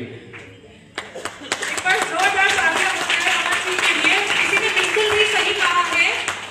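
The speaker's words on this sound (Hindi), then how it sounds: "मैम के लिए जोरदार तालियां हो जाए" Audience applause at a motivational speaking event in Delhi rises suddenly after a moment of quiet and continues as a steady, dense wash of clapping, with voices mixed in.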